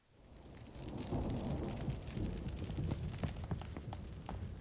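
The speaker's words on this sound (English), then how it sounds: "Must be mad running around in this rain." Steady rain pours in The Witcher 3, a dense hiss that swells after the first second and stays loud, with low rumbling thunder underneath and scattered splashy drops on top.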